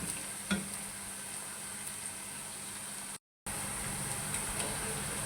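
Onions frying until golden for a masala base for aloo phaliyan, a steady hiss of sizzling oil with faint stirring, continuous and close, briefly cut by a moment of silence.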